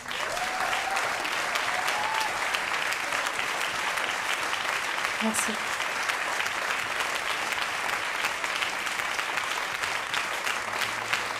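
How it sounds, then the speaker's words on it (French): Sustained audience applause at a French stage event, a dense, steady clapping from a crowd that fills the whole stretch, with a brief spoken thank-you over it. "veuillez applaudir"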